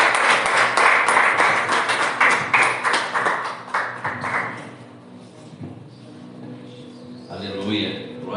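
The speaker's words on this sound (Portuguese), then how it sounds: "E as palmas louvam o Senhor" Church congregation at a Thursday prophetic service claps hands, dense lively applause for about four seconds that quickly dies away, followed by quieter talking and a few scattered sounds.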